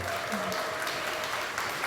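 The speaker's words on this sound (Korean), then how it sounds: "박수 한번 보내주시죠, 여러분." Applause from an audience at a ceremony appointing an honorary Korea tourism ambassador, steady and fairly loud, with a voice faintly heard beneath it.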